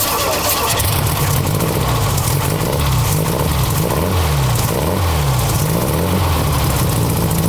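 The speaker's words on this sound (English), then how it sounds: "The hills would come to life with the sound of air-cooled flat fours." Several air-cooled flat-four engines run together outdoors in hills on a charity drive, a steady low rumble whose pitch rises and falls as they rev and pull away, with no talk.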